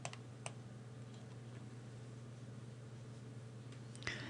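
Computer mouse clicking a Finish button, a couple of sharp, close clicks over a low steady hum, one near the start and one near the end, no talking.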